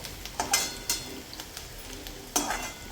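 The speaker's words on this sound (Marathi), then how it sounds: "कांदा थोडासा गुलाबी रंगावर येईपर्यंत परतून घ्यायचा आहे." Onion sautéing in a pan for a leftover-chapati churma, with a faint sizzle beneath sharp intermittent clicks and scrapes of a spatula stirring against the pan, close and fairly quiet.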